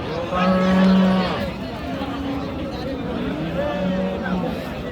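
Cattle at a livestock haat in Dinajpur low out in long moos, one loud call near the start and softer ones later, over a constant babble of crowd chatter and voices.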